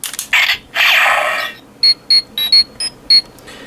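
A Power Rangers Super Megaforce toy plays its electronic Mighty Morphin communicator sound. Loud mechanical rasping and whooshing come first, then a quick run of about seven short, sharp, high beeps in an uneven rhythm.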